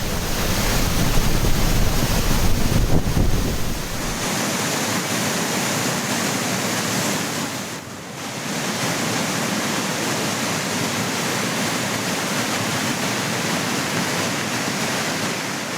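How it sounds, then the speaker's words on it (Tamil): Flooded Courtallam main waterfall roars as a loud, continuous broadband rush of heavy falling water, steady and near, with no voices. "இதனால் குற்றாலம் மெயின் அருவியில் கடும் வெள்ளப்பெருக்கு ஏற்பட்டது"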